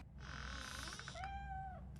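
A drawn-out cat meow in RoboCop: Rogue City, its harmonics sliding and then settling into a steady tone before cutting off, over a constant low background rumble.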